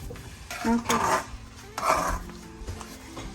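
A spoon works continuously through semiya tomato upma in a pan with ghee, giving scraping, clinking strokes against the metal in bursts, close and moderately loud.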